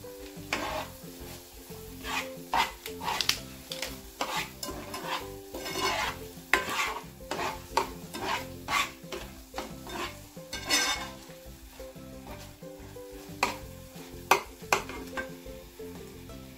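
A spoon stirs a mixture in a pan for egg-stuffed meatballs, with repeated scraping and clinking strokes at an irregular rhythm over a soft sizzle, close up and moderately quiet, no talking.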